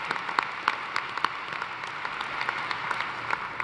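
An audience at a university fall commencement ceremony claps steadily, a dense and even wash of applause from a large crowd that holds at a fairly loud level throughout.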